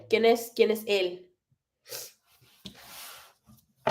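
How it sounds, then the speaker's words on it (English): A short, sharp sneeze bursts out after a few quick words, followed by a breathy rush of air; quiet otherwise. "Achoo, bless you."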